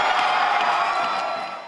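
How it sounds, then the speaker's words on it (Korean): A crowd at an ice hockey game roars after a goal: a dense, sustained wall of cheering and whoops from many spectators, steady and loud throughout, easing slightly at the end. "득점 뒤엔 관중들의 함성"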